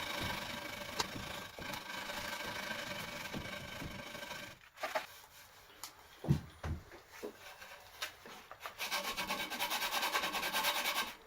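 An axe rubbed with old 40 grit sandpaper wrapped on a long block, a raspy scraping that runs steadily, breaks into a few sharp knocks midway, then resumes strongly near the end.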